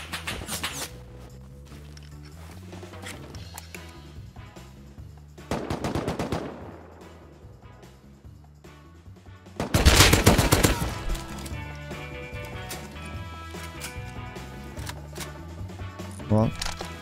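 AK rifle fire in the survival game Rust, with bursts of rapid automatic shots in two main loud clusters and scattered single shots, heard under a player's talk.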